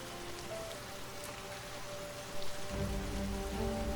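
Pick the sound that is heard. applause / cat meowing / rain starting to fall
rain starting to fall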